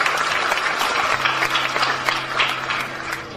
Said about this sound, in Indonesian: Tepuk tangan buat warga Jogokarian.